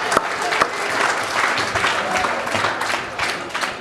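Studio audience applauding on a live AFL footy talk show, dense steady clapping with a few sharper claps standing out, moderately loud and close throughout.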